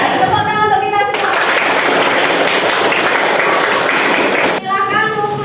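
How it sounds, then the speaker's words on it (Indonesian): Applause fills a school classroom at a vocational high school (SMK) lesson, a dense steady wash of clapping lasting several seconds, with voices of students and a teacher speaking just before and after it. "Tepuk tangan untuk kita semua"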